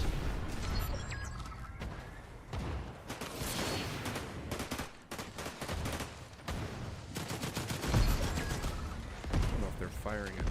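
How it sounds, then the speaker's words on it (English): Scattered gunfire in Fortnite, bursts of shots and distant booms, mixed with game ambience throughout at moderate loudness. "I don't know if they're firing at me or not"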